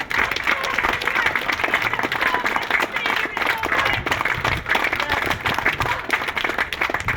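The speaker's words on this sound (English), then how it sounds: "Can we have a round of applause for you, Leanne?" A crowd at a peaceful protest in St Helens applauds a seriously ill teacher, Leanne Lucas, with loud, dense clapping that holds steady throughout, a few voices rising over the applause.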